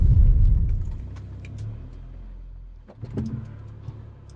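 A BMW E92 with a hybrid-turbo N54 engine gives a deep, close rumble as it is driven into a shed. The rumble fades quickly, then swells briefly again before settling low, with no voices.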